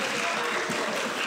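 Audience applause at a Hogwarts-themed grand final event in 2024, a dense, steady wash of clapping filling the short moment, with a voice faintly audible underneath.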